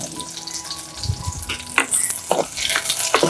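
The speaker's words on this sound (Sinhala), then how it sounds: "අපි තෙලට සුදු ලුණු දානවා." Garlic sizzling and frying in hot coconut oil, a steady crackle with brief stirring scrapes.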